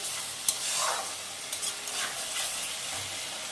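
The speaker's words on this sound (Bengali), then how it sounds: "ভালো করে নেড়ে নেব।" A spatula stirs spiced cauliflower and egg curry in a pan, scraping softly over a low, continuous sizzle, with a couple of light knocks.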